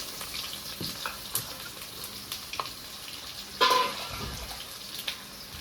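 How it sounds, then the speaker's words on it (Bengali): Chopped onions frying in a pan with whole cumin and dried red chillies, a steady close sizzle with a few clinks and scrapes and one louder hiss partway through. "তো বন্ধুরা দিয়ে দেবো কেটে রাখা পেঁয়াজ।"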